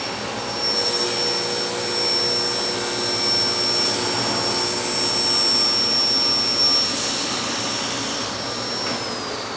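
A table saw crosscuts wood on a crosscut sled, a loud, steady motor whine with a sustained high-pitched blade tone running unbroken throughout, close and alone.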